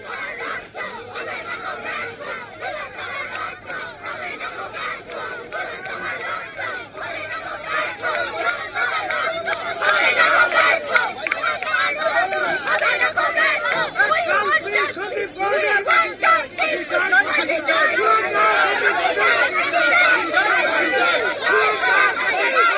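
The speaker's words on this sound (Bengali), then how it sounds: "আলিপুর আদালতে চলছে বিক্ষোভ।" Lawyers protesting at Alipore court make a continuous crowd hubbub of overlapping voices and shouts, which grows louder and more agitated partway through and stays busy to the end.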